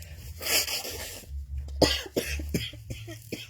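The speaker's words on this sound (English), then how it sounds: "coughing and spluttering away" Several harsh coughs in quick succession, close and fairly loud, with a short pause and sputtering between bursts.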